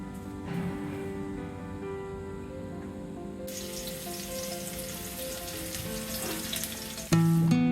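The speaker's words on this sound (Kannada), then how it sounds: "ಒಂದು ಸ್ವಲ್ಪ ಎಣ್ಣೆ ಒಳಗೆ ಫ್ರೈ ಮಾಡ್ತೀನಿ ಅಷ್ಟೇ, ಸ್ಲೋ ಆಗಿ" Okra with gram flour and spices slow-frying in a little oil, giving a steady close sizzle for the whole stretch, with a sharper, louder burst of frying near the end. No voices.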